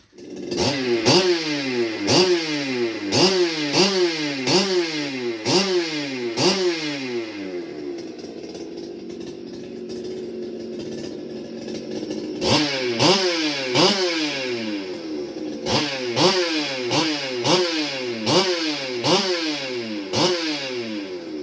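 A ported Husqvarna 395XP chainsaw runs close and loud, revving in sharp repeated bursts, then settles into a lower steady idle for several seconds before the rapid revving bursts return.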